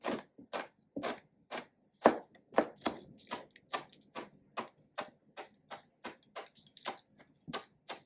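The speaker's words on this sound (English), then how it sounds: "we're gonna chop celery in small little piece" A knife chops celery into small pieces on a cutting board, with a steady series of crisp, close taps at a moderate, slightly uneven pace and no talk.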